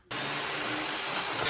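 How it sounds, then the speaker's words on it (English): A round reamer trims a lock hole in a composite gate, producing a steady, loud, close-up grinding whir that starts abruptly and holds without a break. "just find it a lot easier to use the reamer"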